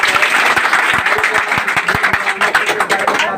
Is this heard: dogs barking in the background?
no